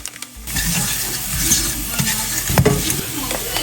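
Keema curry with chili powder, turmeric, masala powder and salt is stirred in a pan, a continuous close sizzle broken by scraping spoon strokes and a few light clinks against the pan.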